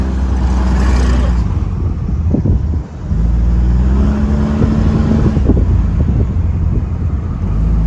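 A street truck's engine runs on a box stand in economy mode, a steady low rumble with wind buffeting the microphone and a brief dip midway, no clear talk over it.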